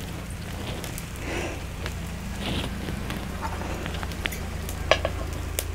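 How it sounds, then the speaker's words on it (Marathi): Puran poli roasting on a hot tawa, a steady soft sizzle and crackle with a low hum beneath and a few sharper pops near the end, no talking. "छान असं आपल्याला ते भाजून घ्यायचं आहे."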